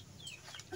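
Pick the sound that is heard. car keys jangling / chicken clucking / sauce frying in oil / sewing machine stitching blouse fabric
chicken clucking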